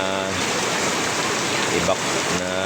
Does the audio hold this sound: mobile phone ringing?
no